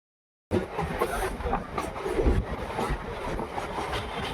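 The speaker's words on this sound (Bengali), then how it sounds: "আর এই যাত্রায় আমার সঙ্গী train number three one eight two two Krishnanagar Sealdah emu" Krishnanagar–Sealdah EMU commuter train running on the rails, a steady rumble with faint clickety-clack from the wheels, heard close from on board for several seconds after a short silent start.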